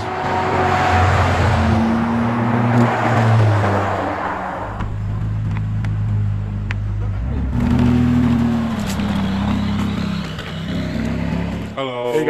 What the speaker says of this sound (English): supercar owners get together at different remote spots of the island, and they take their cars for a spin